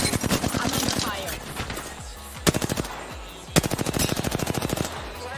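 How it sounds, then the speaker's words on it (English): Rapid automatic gunfire in a shooter video game, sharp bursts of closely spaced shots, loud and near, with short pauses between volleys. "I'm under fire."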